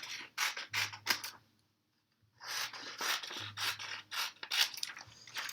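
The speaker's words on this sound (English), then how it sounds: "I'll cut this one really quick for you." Scissors cut through paper pages in short bursts of crisp rasping snips, close and fairly quiet, with a brief silent pause in the middle before the cutting resumes.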